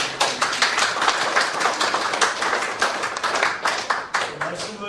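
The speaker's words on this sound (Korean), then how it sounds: "박수" Clapping at a Korean church presbytery meeting, a roomful of people applauding in a brisk, fairly close burst of sharp individual claps that holds steady for about five seconds.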